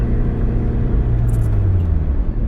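A 1990 Eagle Talon slowing under braking while driving, with a loud, steady low engine and road rumble filling the interior throughout and no voices.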